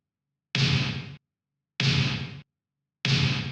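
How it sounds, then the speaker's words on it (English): Three isolated synthwave snare hits with a bright, noisy burst, each sustained about half a second with a reverb tail, spaced evenly with silence between. "So there's a snare."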